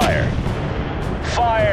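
Gunfire in the video game Hell of Men: Blood Brothers: a continuous dense rumble of shots and booms, loud and close, with a shouting voice heard over it.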